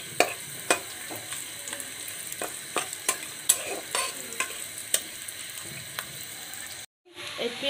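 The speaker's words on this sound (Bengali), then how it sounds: "এখন এটা আমি পেঁয়াজটা একটু ভেজে নিব" Onion frying in mustard oil, with a steady sizzle and repeated stirring scrapes at a close, even level; near the end the sound drops out briefly before resuming.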